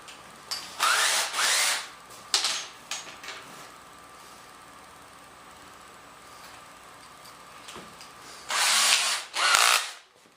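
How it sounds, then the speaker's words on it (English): Power drill boring through an aluminum part during a turbine install, two short whining bursts at the start and two more near the end, separated by a quiet stretch of low background hum. "Yeah, should be able to drill right through it."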